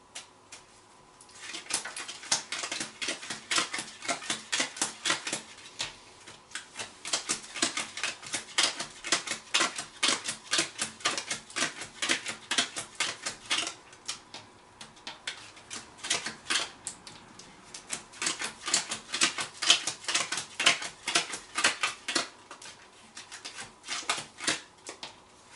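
Tarot cards shuffled by hand in long bursts of rapid riffling and flicking, close and fairly loud, with short pauses between runs and no talk.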